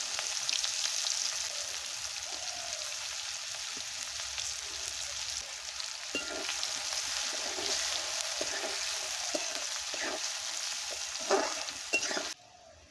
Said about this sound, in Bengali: এই তেলেই 5 ফোড়ন আর শুকনো লঙ্কাটা ফোড়ন দিয়ে দেব।